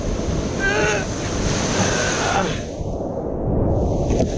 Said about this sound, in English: Crazy waves.